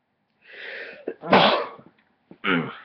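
One person sneezes close by: a drawn-in breath builds up to a loud burst, then a brief vocal sound follows after a pause.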